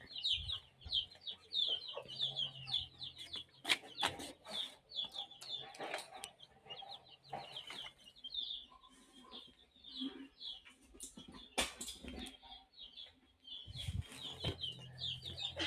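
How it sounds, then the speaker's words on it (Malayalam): Chickens cluck and chatter in a yard, a stream of soft repeated clucks with occasional sharper squawks and light scuffling, fairly close and without talk. "ആണ്, കോഴികൾ."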